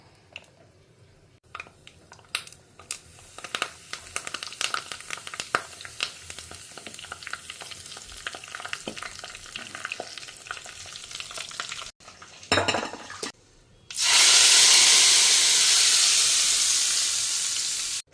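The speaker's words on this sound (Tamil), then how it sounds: "நல்லெண்ணெயில் தான் தாளிக்கிறேன்." Mustard seeds, fenugreek and curry leaves pop and crackle in hot sesame oil, then a loud, sustained sizzle follows as the tempering is poured into a kuzhambu, a Tamil gravy.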